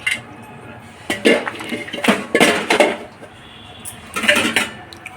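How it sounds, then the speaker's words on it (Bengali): A pot of pea ghugni is covered with its lid, giving several clattering metallic clanks and scrapes close by, uneven and fairly loud, with speech faintly around them. "ঢেকে দিচ্ছি 5 মিনিটের জন্য"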